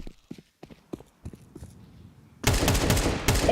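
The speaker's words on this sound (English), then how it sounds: "That was an AK dink down mid for 99 damage through the smoke." AK rifle fire in Counter-Strike during a tournament broadcast, a loud dense burst of shots arriving suddenly after quieter clicks and thuds.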